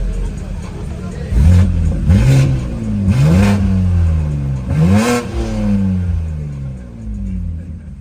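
BMW G80 M3 Competition at operating temperature, revved four times in quick succession at a marina car meet; loud, close blips that rise and fall sharply, with a steady idle between them.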